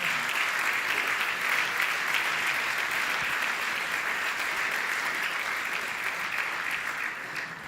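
Steady, dense applause from a seated audience at a political party seminar in Paris, sustained at an even level for several seconds with no speech over it and only a slight fade at the very end.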